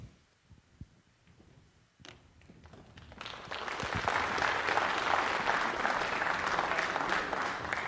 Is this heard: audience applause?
yes